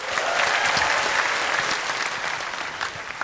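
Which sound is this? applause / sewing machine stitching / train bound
applause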